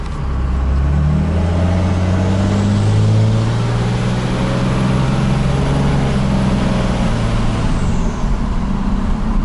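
A Ford F250 with a swapped Cummins diesel and automatic transmission, engine droning loud and close as it revs, with the pitch stepping up and dropping as gears shift.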